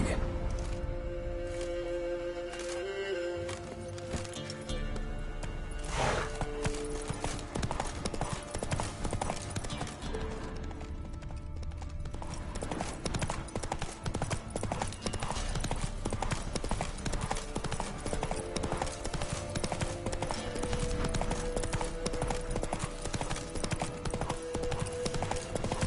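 Horse hooves gallop in The Witcher 3 with a steady, loud clip-clop rhythm that runs the whole time over game music and ambience. A brief whinny and a spoken command to the horse come through near the start.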